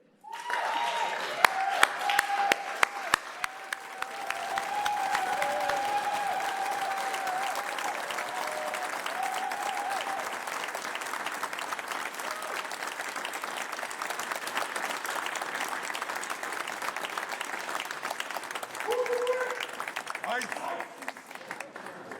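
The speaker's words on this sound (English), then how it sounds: "make folks outside and down the street hear the thunderous applause" Thunderous applause for a senator at a Columbus City Council Black History Month celebration, with sustained dense clapping from a large crowd lasting over twenty seconds and cheers and voices mixed in.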